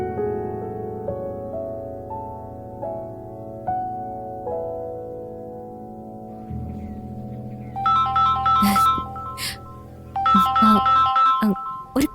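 A phone ringtone for an incoming call plays as a steady melodic tune of sustained electronic notes, later joined by brighter, busier chiming phrases, loud and close with no talking over it.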